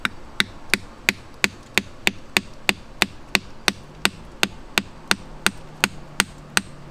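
A hammer strikes a screwdriver to chip a garnet out of rock, giving about twenty sharp metallic taps in an even rhythm, close and distinct against a quiet background.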